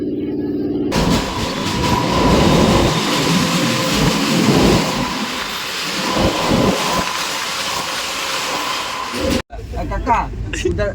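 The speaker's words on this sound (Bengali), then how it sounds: "এক্সপ্রেস ট্রেনগুলো সব ধীরে ধীরে প্রবেশ করছে প্রয়াগরাজ জংশন" Express trains pulling slowly into Prayagraj Junction, a loud, continuous rumble and clatter of rail cars filling most of the stretch, while people talk nearby before it cuts off sharply near the end.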